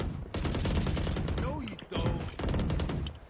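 A shooter video game plays near and loud with dense bursts of rapid gunfire that stop briefly and then start again, while players talk over them.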